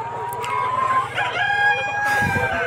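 Laying hens of full laying age on a layer farm cluck and call, with a loud drawn-out crow rising near the end over a steady low hum.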